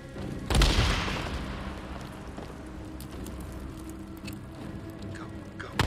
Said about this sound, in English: Or I could preemptively throw a grenade at them